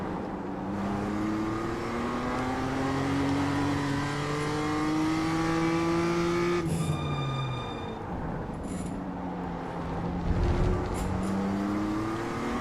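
Several BMW M2 race cars in the iRacing simulator accelerate together from a low rolling start, their engines droning and rising through the gears, with a steady close engine note and no voices.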